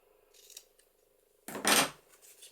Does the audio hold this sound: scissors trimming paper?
yes